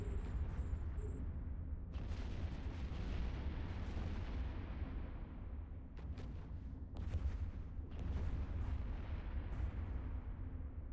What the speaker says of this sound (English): You can see all the explosions on the left side of my screen there.